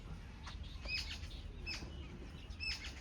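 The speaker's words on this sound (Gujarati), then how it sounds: "કેટલી બધી ચકલી આવી જુઓ." Sparrows chirp in short, high bursts with soft wing flutters, over a low steady background hum.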